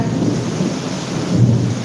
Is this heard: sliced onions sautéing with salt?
no